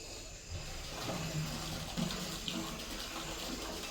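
Water from a motor-fed line runs steadily into a filling sump tank, a continuous gushing splash with a faint hollow tone, fairly quiet and steady from start to end.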